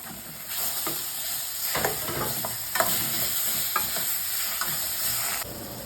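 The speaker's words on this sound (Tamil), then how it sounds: "வெங்காயம் ஓரளவுக்கு வதங்கினதுக்கப்புறமா தக்காளி சேர்த்துக்கோங்க. இது கூட தக்காளி சேர்த்துக்கிறேன்." Onions and tomatoes for idly sambar sizzle steadily in a hot pan while a spoon stirs and scrapes through them with occasional soft clacks, close and continuous.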